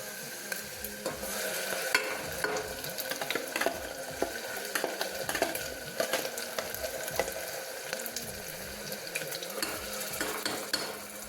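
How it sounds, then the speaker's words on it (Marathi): Masala paste hitting hot oil for kaul fry chicken, a steady dense sizzle and crackle with scattered sharp pops and occasional stirring clatter running continuously throughout. "चला मित्रांनो आता आपण ना मसाला टाकू याच्यामध्ये"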